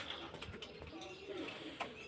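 Soft, low cooing of Chinese pigeons, one a hen sitting on eggs, a gentle rolling murmur, with faint background noise and scattered small sounds around it.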